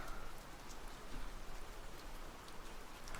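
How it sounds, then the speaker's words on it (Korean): Steady rain patters on surfaces outside, a soft continuous hiss with scattered droplet ticks, faint and even, with no voices, as a calm backdrop for book reading. "빗소리도 좋지 않나요?"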